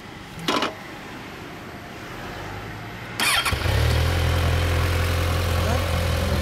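A 2014 Kawasaki Ninja 1000 (Z1000SX) motorcycle engine cranks and catches, then settles into a steady, close idle after a brief earlier burst of noise.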